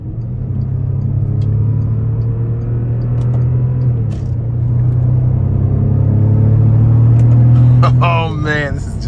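A 2012 Bentley Continental Flying Spur Speed's twin-turbo 12-cylinder engine roars steadily inside the cabin, its deep drone rising and swelling before easing off, with a voice cutting in at the end.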